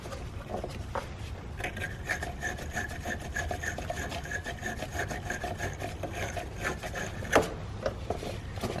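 Wire terminal cleaner brush scrubbing a car battery terminal during a Honda Pilot battery replacement, a close, continuous rasping scrape with repeated strokes and one sharper clack near the end.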